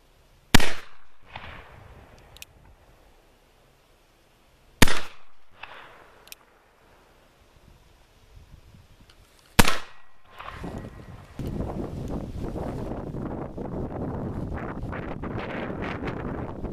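Three sharp black powder shots from an 1851 Navy revolver ring out several seconds apart, each a loud crack with a short decaying tail, followed by steady wind rumble across the microphone outdoors.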